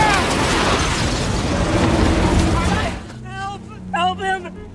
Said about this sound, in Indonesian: Dan sayangnya, Charles akhirnya tewas dalam ledakan tersebut